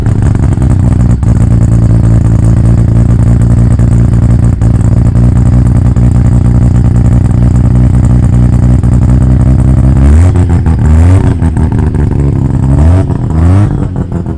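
A Mazda RX-7 FD with a bridgeport turbo rotary engine idles with a loud, lumpy, deep drone, then is blipped through several sharp revs near the end, close and alone.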